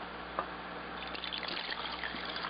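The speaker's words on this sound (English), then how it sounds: "I'll pour in some acetone." Acetone poured into a small jar makes a steady, close liquid trickle that runs unbroken the whole time, with a brief splash near the start.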